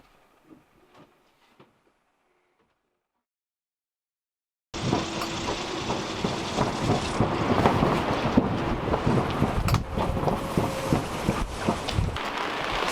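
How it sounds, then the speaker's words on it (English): Heavy gusting wind buffets a sailboat at anchor off Vancouver Island, a loud roaring rush with surging gusts that bursts in after a few seconds of near silence. "pouring and gusting huge, had some steady wind"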